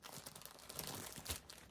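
Crinkling plastic packaging from a mystery bag haul, a faint burst of close rustles and crackles with two sharper crunches near the end, no voice.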